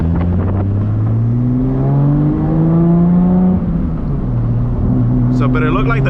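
A 1000+ horsepower Toyota Supra MK4 roars through a hard pull on a cold day, its engine note climbing steadily in pitch, dipping at a shift, then rising again, loud and close throughout.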